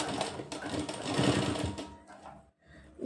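A sewing machine stitches a kurti collar, a close, fast rattling run of needle strokes that slows and stops briefly near the end before restarting.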